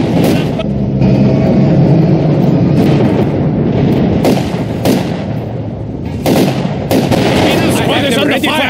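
Gunfire and artillery crash through a Stalingrad battle in Company of Heroes 2, with sharp shots and heavy blasts landing at irregular intervals over a dense, constant rumble of combat and game music.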